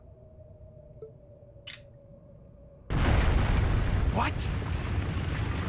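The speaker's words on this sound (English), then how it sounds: "A bomb?" A bomb goes off in the game Trails of Cold Steel, a sudden loud blast after a quiet hum and a brief voice, followed by a sustained roaring rumble.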